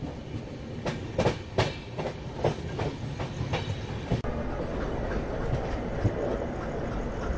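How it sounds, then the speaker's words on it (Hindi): An ALCO diesel locomotive shunts at Bhopal Junction at night, its wheels clicking in a rhythmic clickety-clack over rail joints under a steady engine rumble, close and fairly loud. "रात का शांत माहौल और ये एल्को लोकोमोटिव का साउंड।"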